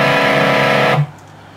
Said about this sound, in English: And you add a bit of overdrive, it sounds really big.